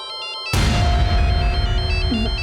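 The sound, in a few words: phone ringtone of incoming call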